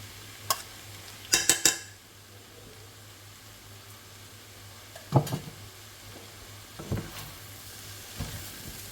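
Cooked rice stir-fried in a pan for fried rice, a quiet low sizzle over a faint steady hum, broken by sharp clacks and scrapes of a utensil tossing the rice at irregular moments.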